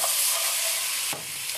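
Onions frying in a pan sizzle loudly and steadily while being stirred, with a couple of brief scraping stirs near the end and no voices.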